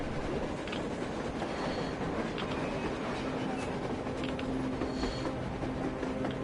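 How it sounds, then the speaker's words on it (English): A train rolls along rails in the video game Metro Exodus, a steady dense rumble with faint rhythmic clatter and metallic whine, continuous and fairly close throughout, with no voices. "A train! A damn train on the surface!"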